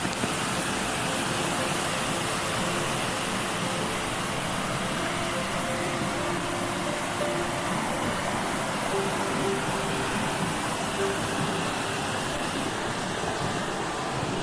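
Steady, dense rushing of a waterfall, heard from its top, fills the whole stretch: a constant broadband roar with no pauses and no talking.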